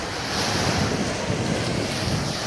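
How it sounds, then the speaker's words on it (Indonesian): Ocean waves and wind at Pantai Kijing beach, a continuous roaring wash of surf mixed with loud wind buffeting the microphone, steady and close, with no voices. "Coba kita lihat air Pantai Kijing."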